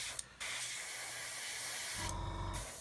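An airbrush sprays paint onto a 1/35 scale model of a WW1 Lanchester armoured car, giving a steady, soft airy hiss with brief louder bursts at the start and near the end.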